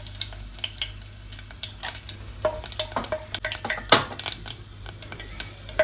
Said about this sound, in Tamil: எண்ணெய் சூடேறட்டும். கொஞ்சம் பெருஞ்சீரகம் சேர்ப்போம். கொஞ்சம் பொரிஞ்சு வர கொஞ்சம் கடுகு சேர்ப்போம்.